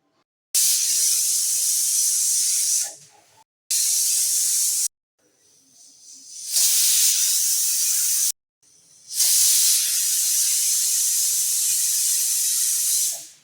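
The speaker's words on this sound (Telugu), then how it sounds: "నాకు 12 విజిల్స్ వస్తే కానీ పప్పు నాకు బాగా ఉడకదు." A pressure cooker cooking dal lets out loud hissing steam whistles, four long blasts separated by brief pauses, each rising and then cutting off sharply, with no talk over them.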